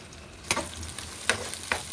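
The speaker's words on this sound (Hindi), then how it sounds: "हमारा ऑयल अच्छी तरह गर्म हो चुका है," Chopped onion frying in hot oil, a steady close sizzle with a few sharper crackling bursts as it is stirred, with no talk.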